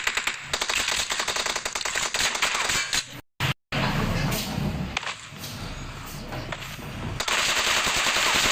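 Rapid automatic gunfire rattles in the PUBG Mobile video game, with dense bursts of sharp cracks, a brief cut to silence midway, then more shots and scattered game sounds, with faint speech in places.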